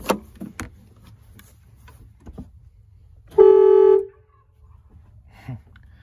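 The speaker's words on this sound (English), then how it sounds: "That, ladies and gentlemen, is an air horn. So let's give that a little tootle." An air horn on a 1990s Land Rover Defender 110 gives a single loud, brassy toot lasting under a second, standing out against quiet background with a few faint knocks before and after.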